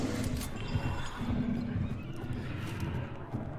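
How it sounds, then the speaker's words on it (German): Horses squeal and whinny in the Hunt Showdown video game, signalling hunters nearby, with steady clip-clop and a noisy low rumble throughout. "Und draußen sind schon wieder Pferde am Quieken."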